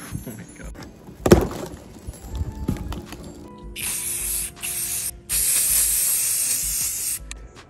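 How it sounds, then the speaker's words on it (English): Long hissing bursts of anti-rust coating sprayed from an aerosol can onto an IKEA Rudsta metal cabinet, several seconds each with short pauses between, loud and close, after some earlier clatter and handling noise. "when you're spraying your cabinet with the anti-rust coating"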